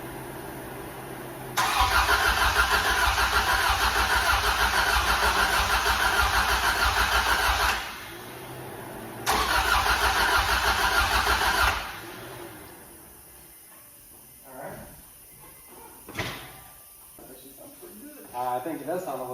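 A rebuilt Honda B18 engine cranks and fires for its first start, a long loud run followed by a second shorter burst, then it cuts out and people talk nearby over scattered clunks.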